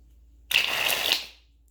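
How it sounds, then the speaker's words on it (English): Playing cards riffled with the magician shuffle: a single dense, crisp burst of papery fluttering that starts sharply, holds for under a second, then fades quickly, close and fairly loud against near silence. "The Magician Shuffle looks like this."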